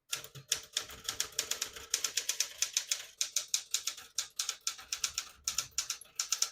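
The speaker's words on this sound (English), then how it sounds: "I'll type a sentence in red on the next line and switch from black to red." Typing on a 1967 Smith-Corona Super Sterling portable typewriter: a steady run of sharp, close mechanical key strikes in a fast even rhythm, loud and clear with no talking.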